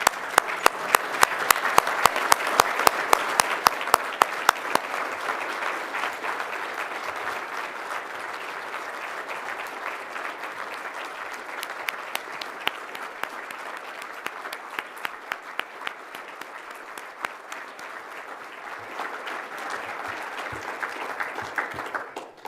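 A large room audience stands and applauds Minister of Finance Dwight Duncan with sustained, dense clapping that holds steady for over twenty seconds, a few individual claps ringing out sharply near the front.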